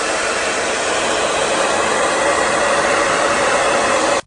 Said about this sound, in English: I'm still drying the hair